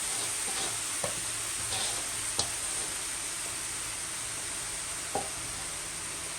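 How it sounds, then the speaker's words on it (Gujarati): Grated carrots for a large four-kilo batch of carrot halwa cook in a pan over a medium flame, giving a steady, fairly quiet sizzling hiss broken by a few brief scrapes of stirring. "છીણને મિક્સ કરી દેવાની છે"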